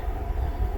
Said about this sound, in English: I got my propane heater going.